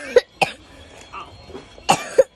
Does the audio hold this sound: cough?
yes